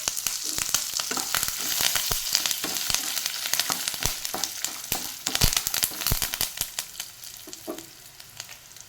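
Urad dal, coriander seeds and curry leaves crackle and sizzle in hot oil, with busy popping and stirring scrapes that thin out toward the end, close and fairly loud, no voices.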